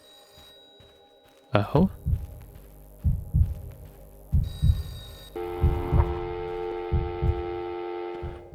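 A payphone rings in a game, with a tonal electronic ring layered over rhythmic heavy thumps like heartbeats. A voice makes a brief exclamation.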